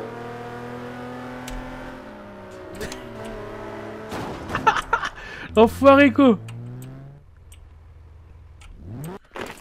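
Car engines rev and race in Garry's Mod DarkRP, with loud rising engine sweeps in the middle as a car accelerates, mixed with continuous French talk from players throughout.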